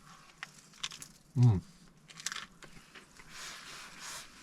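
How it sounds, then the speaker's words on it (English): A bite into crunchy sourdough baguette bread, one sharp loud crunch followed by lighter chewing crackles, eaten outdoors at a lay-by near Skegness. "Nice crunchy bread."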